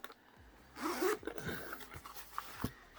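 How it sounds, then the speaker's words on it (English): Zipper on an Anker Soundcore Life Q30 headphone case being pulled open, a close, quiet rasping zip lasting about a second, followed by soft handling rustles. "Unzip it."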